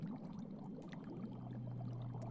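Water trickles and pours steadily in an aquarium, a soft continuous burble with faint splashy flecks and a low steady hum underneath, close and calm.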